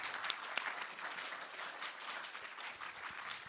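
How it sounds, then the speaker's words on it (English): Applause from a conference audience at Handmade Seattle 2024 greets a speaker, a dense, even wash of many hands clapping that continues for several seconds at moderate, slightly distant level. "So a round of applause for Elizabeth Baumel."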